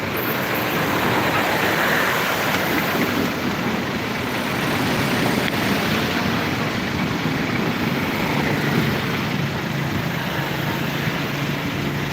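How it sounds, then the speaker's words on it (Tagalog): Heavy rain pours down in Bulacan, a loud, unbroken broadband hiss that holds steady from start to finish with no talk over it. "Malakas ang ulan."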